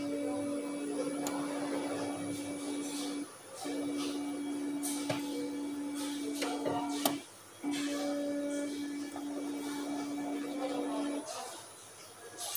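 A Philco side-by-side refrigerator, model PRF504I/PRF507IP, hums steadily while its door is opened and closed, with two brief dips and soft knocks interrupting the drone.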